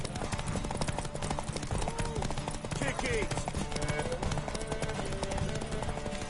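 Rapid hoof clops from a galloping horse in the video game Witcher 3 during a race, loud and continuous under game music and other sounds, with a brief shouted voice.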